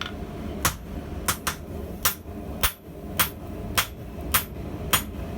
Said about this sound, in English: When you only hand hammer, sometimes slow and low is the best tempo.